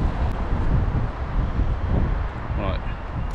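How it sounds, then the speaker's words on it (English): Strong gusty wind buffets an outdoor microphone on a blustery day, a steady broadband roar with rumbling swells running through the whole few seconds, loud and close. "It's so bloody windy again."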